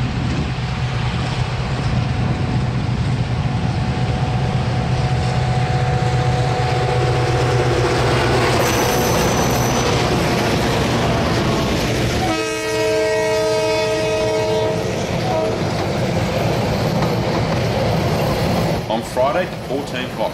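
Steam locomotive JA 1271 hauls a joint excursion train on the Waiuku branch line in New Zealand's North Island, rumbling loudly and steadily as it passes, with a sustained horn blast partway through.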